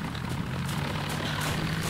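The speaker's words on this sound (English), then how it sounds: "That aeroplane?" An aeroplane drones overhead in a television drama scene, a steady broad engine roar at moderate level with no voices.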